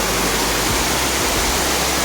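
A mountain waterfall in the Carpathians roars as a constant, dense wash of rushing water, loud and close, with no other sounds over it.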